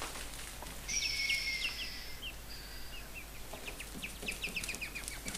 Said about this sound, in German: Wie man hören kann, einen Hahn habe ich auf jeden Fall in der Transportbox,